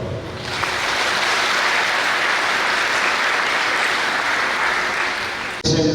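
A church congregation claps steadily in a dense, even wash of applause, honoring a new Vicar General. The clapping stops abruptly near the end, and a brief voice follows.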